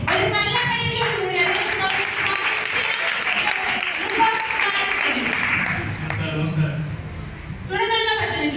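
A Sunday school anniversary audience gives a skit a round of applause, with steady clapping filling the room while a voice keeps talking over it and a few louder bursts come near the end.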